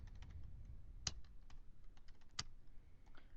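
Quiet keystrokes tap on a computer keyboard at an uneven pace, with a couple of sharper key presses standing out, close but faint and without talk.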